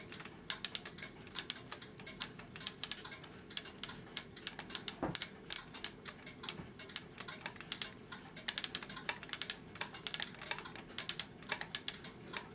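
The ratchet clicker on the brass main wheel of a 1770s tall case clock by Jeremiah Fellows ticks in irregular bursts of small, sharp, close clicks against a quiet background, with no talk.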